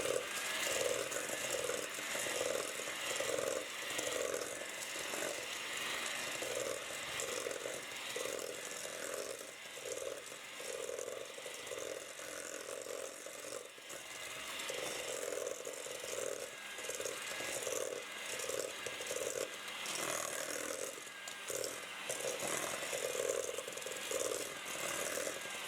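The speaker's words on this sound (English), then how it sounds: "I'm using a hand mixer today. No need to pull out the big mixer." A hand mixer whirs steadily while creaming room-temperature butter and white sugar in a bowl, with a buzzing motor and rattling beaters that pulse slightly as it moves through the mixture.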